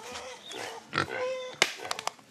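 Pig on a farm in Vanuatu grunting in a few short, close bursts, with some snuffling and brief higher squeaks between them.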